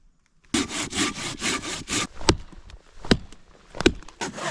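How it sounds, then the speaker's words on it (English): A saw cuts notches and footholds into the side of an old tree stump in the woods: a run of quick rhythmic rasping strokes, then a few slower, separated heavy strokes, close and fairly loud. "I'm just gonna try and cut some notches and some footholds into this side of the stump."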